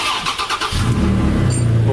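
Toyota Tacoma truck engine turning over and settling into a low, rumbling run close by, loud and steady after a brief rough start, no talking.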